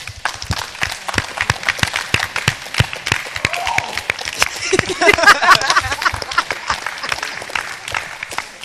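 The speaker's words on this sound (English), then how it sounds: "please give a round of applause for our panelists" A conference audience applauds the panelists of a session on race, faith and justice, steady dense clapping across the room for several seconds, with a few voices and cheers rising in the middle.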